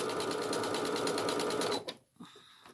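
A sewing machine chain-pieces 2.5-inch fabric squares for pattern weights, running in a fast steady stitching rhythm up close, then abruptly stopping with a few small handling clicks.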